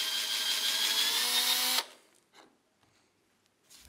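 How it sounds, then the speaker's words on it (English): A power drill with a 7/32 inch bit bores into wood in one steady, loud whirring run that stops abruptly, leaving a few faint handling knocks afterward. "I'll drill a hole at each of the 11 points using a 7/32 inch bit with some tape on it to serve as a depth indicator."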